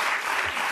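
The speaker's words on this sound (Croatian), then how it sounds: "imam Baneta koji da aplauz kad ga niko ne bi dao" A talk-show studio audience breaks into applause, dense and steady clapping that fills the whole short moment without any voices.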